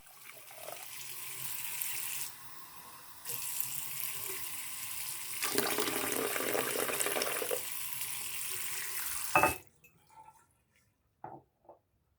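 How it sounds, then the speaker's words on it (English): Diluted liquid pours steadily into the cups of a candle holder with a bubbling, splashing flow that changes pitch as the cups fill, then stops, leaving a few faint drips and taps. "Here I am, pouring in the cups."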